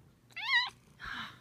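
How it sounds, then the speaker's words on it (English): A young male cat gives a clear rising meow up close, then after a short pause a softer, breathy meow or trill follows. Under them runs a faint low purr, with no talking. "You can hear him purring."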